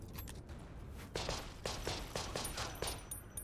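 Machine gun fire in the video game Conscript, heard as a few separate bursts of game gunfire of moderate loudness, spaced unevenly over a low rumbling background.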